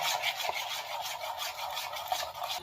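Continuous scraping and rubbing of a spoon stirring thick red chutney for Saurashtra gathiya, close and steady with faint irregular knocks, no voices.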